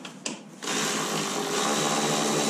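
A power tool whirs steadily to remove a 10 mm bolt while an inner fender mud shield is fitted on a Yamaha RMAX side-by-side. The tool starts after a few short clicks and runs loud and close to the end.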